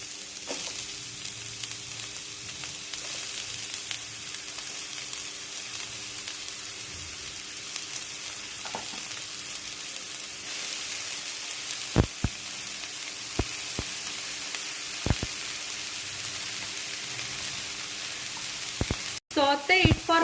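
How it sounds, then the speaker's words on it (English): Chopped garlic and spring onion sauté in a pan for a tea-time snack, giving a steady, even sizzle like light rain that runs throughout, with a few sharp clicks from utensils. "Saute it for 1 minute."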